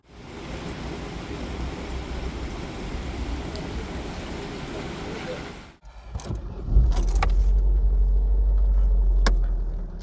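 A Vauxhall Astra F car engine, run after four years parked, rumbles steadily throughout, then shifts to a deeper, louder low hum with some light clicks and rattles.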